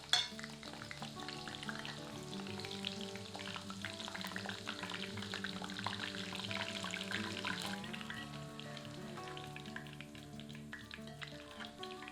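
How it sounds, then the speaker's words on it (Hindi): Green chillies fry in hot oil in a kitchen, giving a steady sizzle and crackle that runs for the whole stretch at a moderate level, with faint clatter and a tonal background underneath and no voices. "अब उसी तेल में हरी मिर्चों को डालकर थोड़ा तल लेते हैं।"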